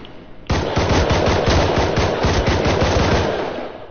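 An AK rifle firing a long automatic burst in a video game, fast loud repeated shots lasting about three seconds after a short quiet lead-in, with no talk over it.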